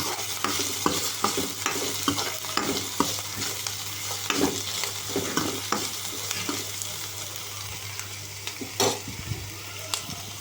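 Ridge gourd pieces with soaked chana dal frying in a pan for a curry, a steady sizzle under repeated sharp scrapes and knocks of a spoon stirring, close and continuous.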